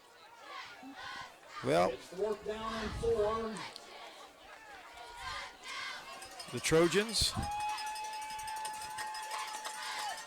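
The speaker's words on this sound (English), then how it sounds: "Crowd excited, wanting them to get this first down." Excited football crowd at a Trojans game on a fourth-and-four, rising in cheering bursts under a commentator's voice, with a sustained whistle-like tone entering late.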